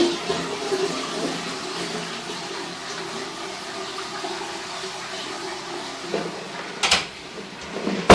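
A toilet flushes in a building's restrooms during a plumbing inspection, a steady rush of water lasting several seconds and then tapering off, followed by a few knocks and clatters near the end.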